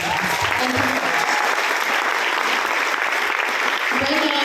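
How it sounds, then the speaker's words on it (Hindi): Audience applause for a speaker at a Vestige event fills the whole stretch, a steady, dense wash of clapping close and loud throughout, with a faint voice underneath. "अभी इनके लिए तालियां हो जाएंगी"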